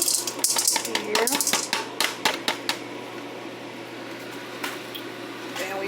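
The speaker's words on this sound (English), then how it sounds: "Alright, now I'm adding my popcorn here." Popcorn kernels pour into a preheated, oiled pan on a stovetop, a fast rattling patter of hard clicks for a few seconds that then thins to scattered ticks over a steady low hum.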